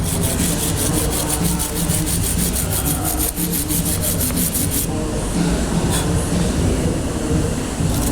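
Brake pads being brushed during front brake installation, a steady dense scrubbing and rubbing that runs loud and close throughout without pause.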